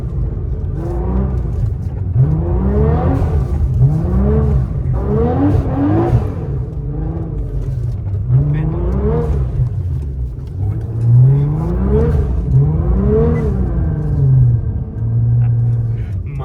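A Nissan GT-R R35 driven and drifted through snow, its engine revving up and down in repeated loud surges with the throttle blipped through each slide, with occasional voices underneath.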